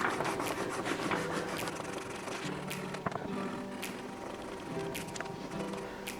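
Abrasive fret rubbers polishing the frets on an Explorer-style guitar build, a steady, close scratchy rubbing that runs continuously with faint rhythmic strokes.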